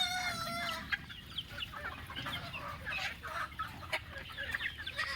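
Several chickens cluck and call while pecking at paddy grain outdoors, short bursts overlapping at close range with a rooster-like cry in the mix, no talk.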